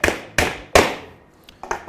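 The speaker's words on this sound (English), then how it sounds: "you can hammer it till it's flush." Nearby, a hammer drives a nail into wood until it sits flush. Three sharp, ringing blows come first, then a short pause and a few lighter taps, all loud and close, with nobody speaking.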